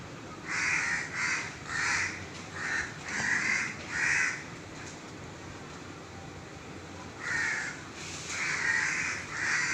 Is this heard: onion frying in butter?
no